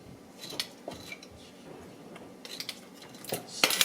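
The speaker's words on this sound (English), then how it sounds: "Stir that up" Coconut cream pie filling, with coconut and vanilla added, is stirred in a pot. Light metallic scrapes and clinks of a utensil come in irregular bursts, close and fairly quiet, ending with a brighter tap.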